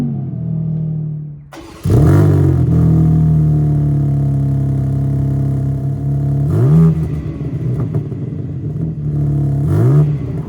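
A BMW M4 CS engine cranks and fires after a short quiet pause, then settles into a loud, steady idle with three sharp blips of revving spread across the rest of the clip, close by and alone.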